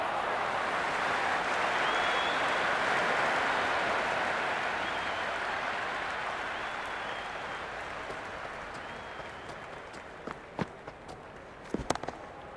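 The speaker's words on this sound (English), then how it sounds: "It's the most enthusiastic crowd you could ever see right now. There's a buzz, a real buzz coming from the stands." A cricket stadium crowd in the PS5 game Cricket 26 during Sri Lanka vs Pakistan, cheering as a broad roar that swells early, then gradually fades, with a few sharp clicks near the end.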